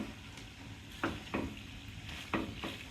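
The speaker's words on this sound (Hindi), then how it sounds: "तो अब हम कर लेंगे इसको मिक्स" A spoon stirs pasta in a hot pan, giving a steady low sizzle with four distinct scraping strokes spaced about a second apart, close and moderately loud, with no voices.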